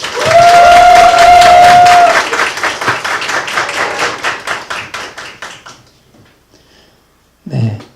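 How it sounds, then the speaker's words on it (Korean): An audience applauds to welcome the chairman of a cooperative to the stage for a talk: dense, loud clapping with a brief whistle-like tone that thins into scattered claps and fades out, followed by a short burst of speech. "큰 박수로 저희 그 보리네 협동조합 이사장님이신 정창윤 이사장님을 큰 박수로 모시겠습니다"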